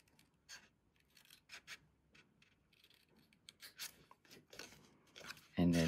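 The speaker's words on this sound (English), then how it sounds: "And then cut this off if I can see." Scissors snipping through card stock in a series of short, close cuts with rubbing paper sounds, ending in a louder thud.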